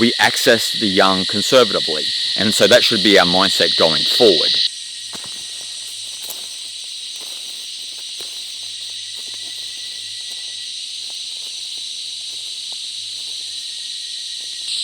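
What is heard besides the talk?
cicadas buzzing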